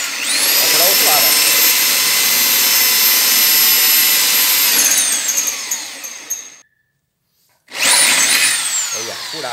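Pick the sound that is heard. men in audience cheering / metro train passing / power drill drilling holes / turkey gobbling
power drill drilling holes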